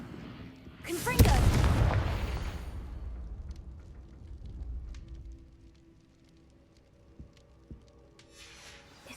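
A Confringo explosive spell blasts in a video game, one deep booming explosion with a long rumbling decay, followed by faint scattered debris and ambient sounds.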